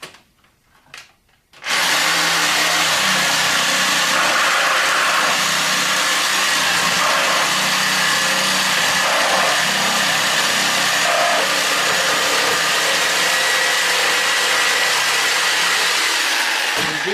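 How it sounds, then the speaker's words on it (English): Reciprocating saw cutting down through a wooden shipping pallet, a loud, steady buzzing rasp that starts abruptly after a brief quiet moment and runs continuously with no pause. "you take a sawzall and you cut down"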